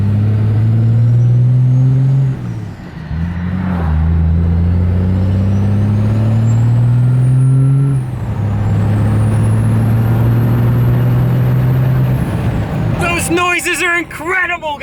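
A big-turbo Cummins diesel truck with a G56 transmission drives through its gears, the engine droning and rising in pitch with a clear high turbo whistle sweeping up above it, close and loud throughout, with a rattling burst near the end.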